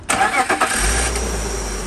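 A BMW E46 engine cranks and catches after alternator repair, then settles into a steady low idle, loud and close, with no voices.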